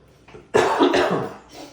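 A person coughs in a kitchen while making cream puffs: a soft throat sound, then two loud, close coughs in quick succession that fade out.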